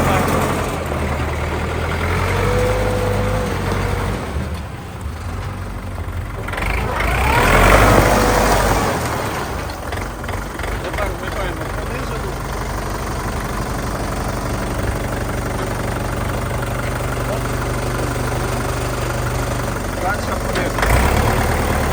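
A Jinma 404SN or Kentavr 404S mini tractor drives slowly in gear, its engine giving a steady, loud, low rumble throughout, with a brief swell in the middle and some muffled voices underneath.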